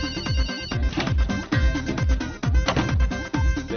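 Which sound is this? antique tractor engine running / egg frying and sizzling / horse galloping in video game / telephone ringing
telephone ringing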